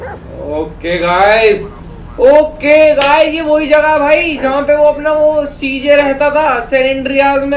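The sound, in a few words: dog barking in video game GTA 5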